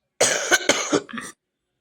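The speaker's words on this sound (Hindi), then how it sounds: "अभी भी थोड़ी थोड़ी खांसी रह गई है" A woman coughs while cooking kadhi chawal in a kitchen: a short cluster of three or four dry coughs, close and clear, then silence.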